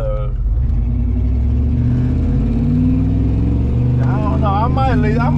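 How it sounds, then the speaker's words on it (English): An OBS truck fitted with a new 3-inch exhaust idles loud and close, a deep rumbling drone with someone talking over it near the end. "I might leave this exhaust like that"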